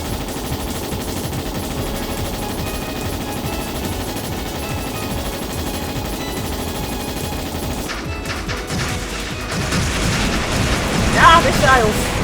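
Rapid, continuous machine-gun fire from a battle in the video game Trails in the Sky SC, a dense rattling burst that runs unbroken for several seconds and then grows louder and busier near the end.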